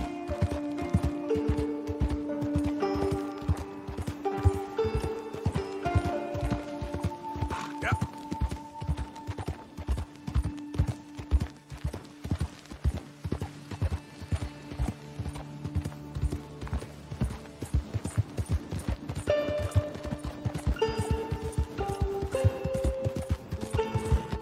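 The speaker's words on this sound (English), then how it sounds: "Fine horse you got there." Horse hooves clip-clop in steady rhythm in the Western video game Red Dead Redemption 2, close and continuous over a background of music and game sounds, with speech at times.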